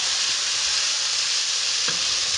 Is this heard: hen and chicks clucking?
no